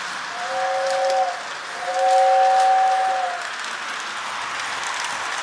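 A toy holiday train set whistles with two steady tones, one short blast then a longer one, over a constant rushing, rattling hiss of the running train.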